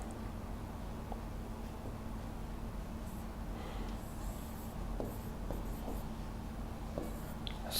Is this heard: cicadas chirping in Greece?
no